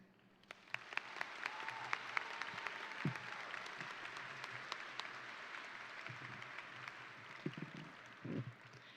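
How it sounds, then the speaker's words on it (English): Graduates at the La Cueva High School 2024 graduation ceremony applaud their families, teachers and friends with sustained, even crowd clapping that fills the whole stretch, steady in level with a few sharper claps standing out near the end. "would like to show our appreciation with applause to our families, teachers, friends"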